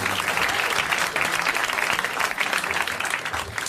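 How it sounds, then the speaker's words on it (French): A studio audience claps steadily and loudly for a winning contestant on a French television game show, a dense continuous wash of applause with no pauses. "Nous l'applaudissons."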